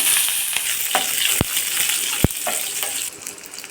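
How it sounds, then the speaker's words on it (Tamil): Fennel, cinnamon, cardamom, cloves and small shallots fry in hot oil with a steady, loud, close sizzle, broken by a few sharp pops and crackles. "எண்ணெய் சூடானதும் அதில் கொஞ்சம் சோம்பு சேர்க்கலாம் பட்டை சின்ன துண்டு ஒரு ஏலக்காய் கிராம்பு மூணு சின்ன வெங்காயம் ஒரு பத்து சேருங்க"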